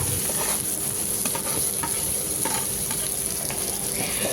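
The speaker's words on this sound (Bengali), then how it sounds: "তেলটা গরম হয়ে যাওয়ার পরে ম্যারিনেট করে রাখা ভেন্ডিগুলো আমি কড়াইতে দিয়ে দিচ্ছি" Marinated okra (bhindi) sizzles in hot oil in a kadai, producing a dense, steady hiss and crackle throughout with faint clinks mixed in, close and constant, with no talk.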